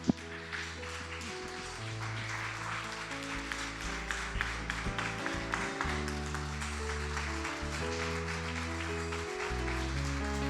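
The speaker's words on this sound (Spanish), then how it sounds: "Le damos un aplauso al Señor." A church congregation applauds over sustained keyboard chords, the clapping a soft, steady patter of many hands blended beneath the music.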